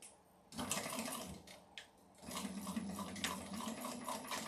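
A domestic sewing machine stitching a slip pocket on a bag, whirring in two close, steady runs separated by a brief pause, with no voices.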